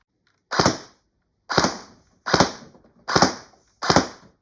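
Five single sharp shots from an airsoft MP7 submachine gun, fired one at a time at roughly even intervals, close and loud.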